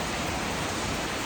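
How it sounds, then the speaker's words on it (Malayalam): Heavy rain pouring down outside a home, a dense, steady roar of falling water that stays loud and unbroken throughout, with no voices over it. "ഓ ഇതെപ്പോൾ തുടങ്ങിയ മഴയാണ്,"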